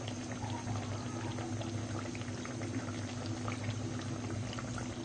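Sweet tikiya patties fry in hot oil until golden, giving a continuous dense crackling and bubbling sizzle close by, steady and unbroken with no talking.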